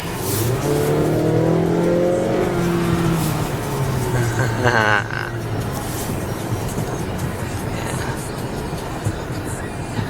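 A 2021 Acura TLX, front-wheel drive, accelerates on a road test drive, its engine a loud steady drone with rising tones early on and a brief higher whine midway.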